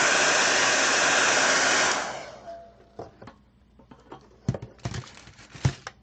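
A hair dryer drying glitter nail polish swatches blows with a loud, steady whoosh for about two seconds and then cuts off. Scattered light taps and clicks follow in the quiet.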